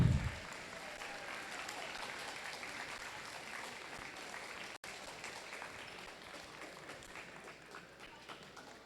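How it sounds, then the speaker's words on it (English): An audience at a robotics competition qualifier applauds a winning team, a steady wash of distant clapping that holds evenly and fades slightly toward the end. "let's give one more round of applause to Free of Charge"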